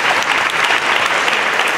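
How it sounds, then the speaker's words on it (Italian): Audience applauding young musicians after a youth orchestra concert at a spring festival; dense, steady clapping throughout, close and loud. "Quindi un applauso per loro."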